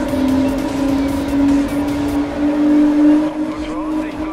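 A police car in the racing game Need for Speed Rivals accelerates hard, its engine holding a loud, steady droning tone with shifting pitch throughout, while someone talks over it.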